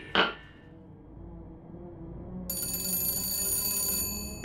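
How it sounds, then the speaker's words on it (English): A telephone rings in the video game BioShock Infinite, a sharp strike followed by a steady electric bell trill that starts partway through and keeps ringing, fairly quiet. "Phone call? For me?"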